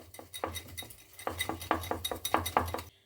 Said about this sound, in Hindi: अब हम लेंगे विस्कर, और विस्कर की मदद से इसे हम अच्छे से मिक्स कर लेंगे।